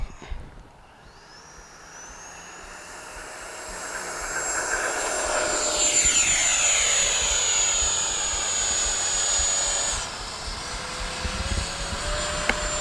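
An FMS F-18 Super Hornet 70mm RC jet's ducted fan whines up to full power and roars down the runway on takeoff, growing louder and sweeping past before settling into a distant, steady whine.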